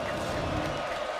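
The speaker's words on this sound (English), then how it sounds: "This Ullman Stadium crowd into it again." A college football crowd at Ullman Stadium roars in a dense, sustained wash of cheering and shouting, loud and continuous for a short moment, with a voice talking over it.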